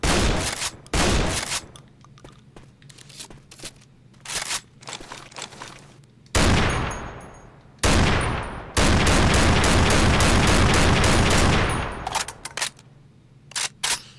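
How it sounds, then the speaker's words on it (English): Bursts of shotgun fire in the zombie shooter Left 4 Dead 2, loud blasts in uneven clusters with short gaps, plus sharp clicks and pump or reload clatter between shots. "Going with the shotgun."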